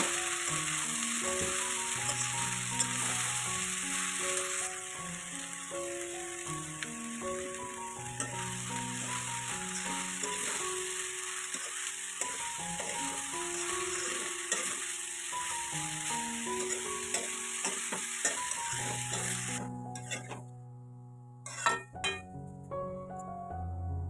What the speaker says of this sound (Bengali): তো পেঁয়াজ কাঁচামরিচ তেলের মাঝে বাজিয়া এখন শাক ফেলাই দিছি